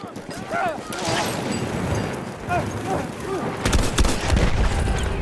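Battlefield 1 gameplay gunfire crackles in rapid bursts over a steady din of battle, with a dense volley of shots near the end and a voice talking over it.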